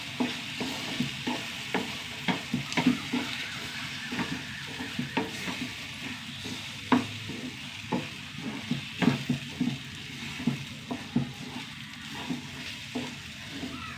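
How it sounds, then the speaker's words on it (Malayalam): Food being stirred in a frying pan over a steady sizzle, with repeated scraping strokes at an uneven rhythm that continues throughout, close and fairly loud. "നല്ലോണം ഇളക്കി കൊടുക്കുക"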